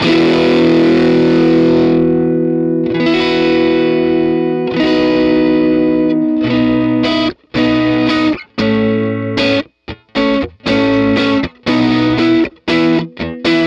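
An electric guitar plays sustained chords through a gritty Rat-style distortion pedal on a Reuss Swiss Army Knife, first ringing out, then breaking into choppy, stop-start strums with sharp cutoffs between hits.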